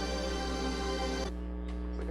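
Vegeta's theme music from Dragon Ball Z with the treble turned down, a steady dense mix with a muffled top end that thins out partway through, playing alone at a moderate level.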